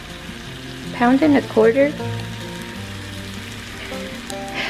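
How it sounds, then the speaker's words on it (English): Large Costco shrimp sizzle in butter in a pan, a steady close frying hiss with a brief burst of spoken words over it. "I put butter in this pan and I have my shrimp in here now"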